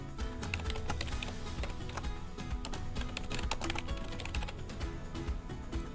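Computer keyboard typing as a product name is entered, fast continuous clicking of keys, close and steady for several seconds with no talk.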